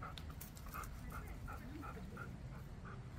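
A small dog whimpers and yips in a string of short, evenly spaced bursts during heel training, faint and close with no talking.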